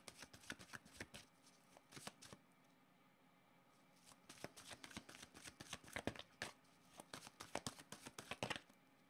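Tarot cards being shuffled by hand, soft close riffling and flicking in repeated bursts with a short pause partway through, quiet and without talk.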